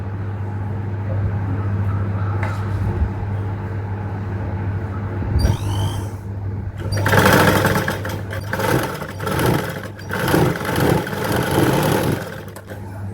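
A sewing machine runs a half-inch seam on a princess-cut garment with a belt: a steady low motor hum at first, then louder, busier stitching bursts from about seven seconds on, with no talking.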